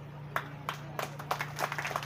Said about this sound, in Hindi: आप लोग ताली मार रहा है